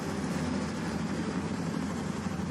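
Aircraft flyover at an NFL football game, a loud, steady engine roar that fills the whole stretch without letting up, broad and rumbling like a low pass directly overhead.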